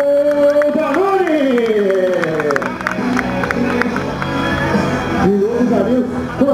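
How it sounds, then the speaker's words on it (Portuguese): A crowd claps and cheers for a Lone motorcycle stunt rider at a Radical Moto Show, a dense, steady roar of applause and shouts running throughout with voices and a loud announcer-like voice over the top. "Quem está gostando, aplaude forte o piloto da Lone."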